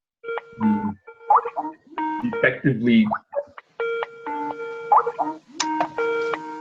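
Electronic phone tones, steady beeping and chiming notes, sound in the background of a Zoom call, repeating in short bursts throughout while a person speaks over them.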